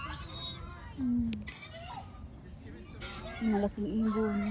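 A large bird calls at a playground, giving two strong cries a couple of seconds apart over a busy outdoor background.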